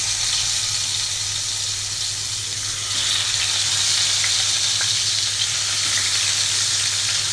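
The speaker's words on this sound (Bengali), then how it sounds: "আর মাছটা ভেজে নেব" Fish frying in a pan gives a loud, dense, continuous sizzle with a low steady hum underneath, heard up close with no talking.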